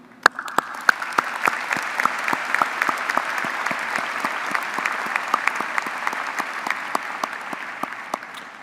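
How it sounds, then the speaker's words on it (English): An audience at a medical school graduation ceremony applauds an absent honoree, many hands clapping in a full, sustained round with sharp individual claps popping out near the microphone. "hopefully you can hear the applause we're going to give to him"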